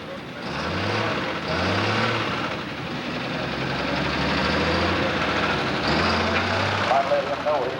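Engine of the Kentucky Sled Hunter pulling tractor at a 1995 Shepardsville, Kentucky pull runs loud and rough with a rhythmic, pulsing knock, the throb rising and falling while a voice talks over it.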